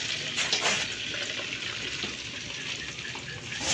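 Pili nuts frying in a generous amount of hot oil, giving a steady, close hiss and sizzle that runs without break through the whole stretch, with no voices.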